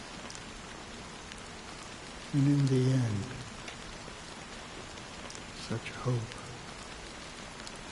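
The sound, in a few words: rain falling in Honkai: Star Rail video game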